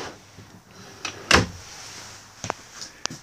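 A drawer on ball-bearing slides in a 2017 Jayco 27DRSL travel trailer slides along its runners and bumps shut, followed by a couple of lighter clicks and taps nearby.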